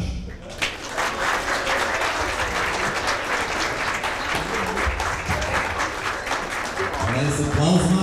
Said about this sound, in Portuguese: Mais aplausos, mais forte, mais forte.